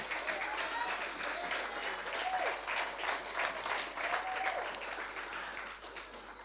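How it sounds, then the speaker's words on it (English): An awards-ceremony audience gives Dr. Kimal Williams a round of applause, a steady wash of many hands clapping for several seconds at moderate distance, with a faint murmur of voices underneath. "I want us to give Dr. Kimal Williams a round of applause"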